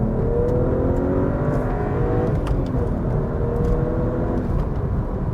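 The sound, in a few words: BMW-based sports car engine revving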